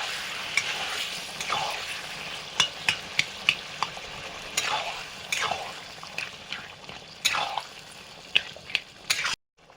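Boiled pumpkin and potato stirred and frying in a pan with chopped onion, chilli and ginger, a steady close sizzle under scattered scraping clicks of the spoon, running alone without speech before cutting off abruptly at the end.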